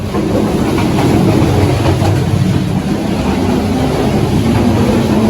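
Continuous low rumble and rattle from inside a moving air-conditioned train carriage between Dhaka and Bogura, Bangladesh, loud and steady with faint rhythmic clatter.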